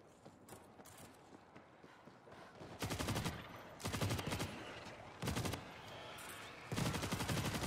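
Bursts of automatic gunfire in the zombie shooter World War Z, several rapid sustained volleys of a few seconds each, loud and close, separated by quieter stretches of game noise.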